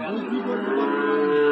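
A bull or cow moos loudly and close at a busy cattle market where Sahiwal bulls and calves are sold, one long sustained low call lasting the whole moment.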